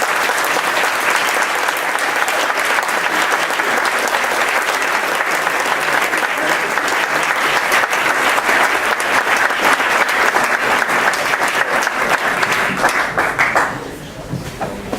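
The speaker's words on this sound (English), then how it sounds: "let's please give them a rousing round of applause" A rousing round of applause from an alumni awards audience for standing international student liaisons, loud dense clapping sustained throughout before tapering off at the end.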